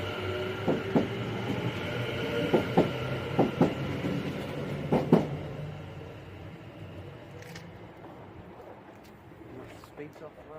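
A Class 730 electric multiple unit pulls away from Aston station towards Wolverhampton, its wheels clicking rhythmically over rail joints with a steady hum that fades as it recedes; a voice talks over it.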